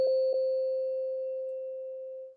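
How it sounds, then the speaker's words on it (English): A single soft, pure sustained tone from a classroom signal rings out alone and slowly fades over about two seconds, with a faint click near the start. "one soft tone signals students to finish their activity and tidy their"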